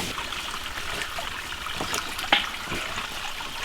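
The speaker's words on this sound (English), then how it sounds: "That is a lot of water." Water trickles and flows steadily at a homestead, a quiet, continuous wash with a brief splash partway through.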